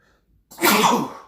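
A single sharp sneeze bursts out after a brief near-silence, loud and close, trailing off quickly.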